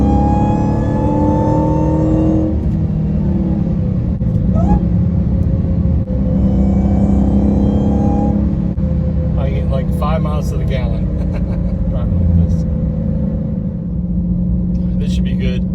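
A Dodge Hellcat Charger on its stock exhaust growls through two rising revving pulls with a whining edge, followed by a lower rumble while someone talks close by.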